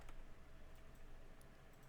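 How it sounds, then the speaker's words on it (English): Soft, quick keystrokes on a computer keyboard tap out a short word, quiet and close, with no talking. "I'm going to type offset"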